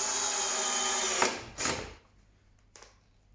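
A cordless power drill whirs steadily as it drives a screw into plywood, then cuts off, followed by a short final burst and a brief click, close and loud without talk.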